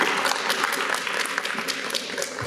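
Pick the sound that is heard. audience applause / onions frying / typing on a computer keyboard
audience applause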